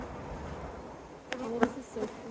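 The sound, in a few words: honey bees buzzing in an opened hive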